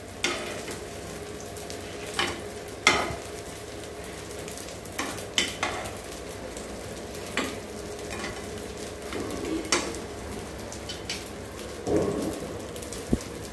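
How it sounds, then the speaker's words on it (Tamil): Idli pieces frying in a pan, a continuous close sizzle with scattered sharper pops and taps of a utensil over about thirteen seconds, no voices. "இட்லி மெல்ல அப்படியே ஃப்ரை ஆகட்டும்"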